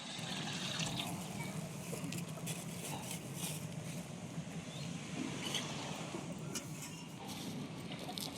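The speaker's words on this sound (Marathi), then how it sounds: "आता पाणी वतून ठेवलं घेते त्या भांड्यामध्ये" Water pours steadily into a cooking pot holding a millet mixture for a traditional Konkan village mutton meal, a continuous soft splashing stream lasting about eight seconds with no talking.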